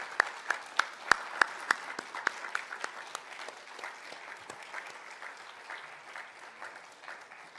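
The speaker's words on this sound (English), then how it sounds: "So graduates, let me ask you to applaud your family and friends." Graduates at a University of Liverpool graduation ceremony applaud their family and friends in a large hall. A few sharp, separate claps come first, then they swell into steady, moderately distant applause that slowly thins out.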